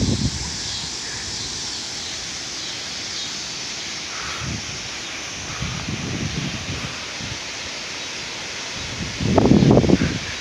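Strong storm wind of about 35 miles per hour during severe Oklahoma weather rushes as a steady broadband roar. Gusts swell now and then, and a louder blast comes near the end.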